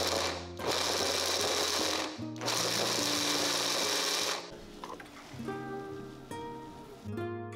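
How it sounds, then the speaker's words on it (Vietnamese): A grinder whirs loudly in two bursts, finely grinding soaked dried shrimp, then slows and stops into softer mechanical clatter and ringing tones near the end. "sau đó cho vào cối xay nhuyễn"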